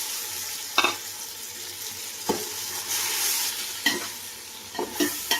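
Spices and onions sizzle steadily in a large pot for chicken biryani while a spoon scrapes and stirs in a few distinct strokes, no voices.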